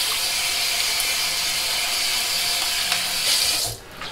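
Water runs steadily from a tap while shaving soap is rinsed off a face, a close, constant hissing splash that breaks off with a brief splash near the end.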